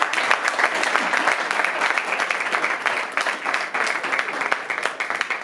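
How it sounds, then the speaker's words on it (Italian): Steady applause for Monserrato's mayor Tommaso Loci at a public gathering, an even, continuous patter of many hands clapping throughout without letting up. "gli farei un applauso"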